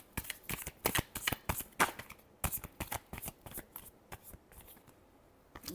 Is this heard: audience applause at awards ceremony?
no